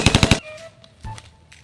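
A rapid burst of four loud gunshots, like machine-gun fire, opens a comedy skit about soldier training, followed by quieter background noise and thumps with no talking.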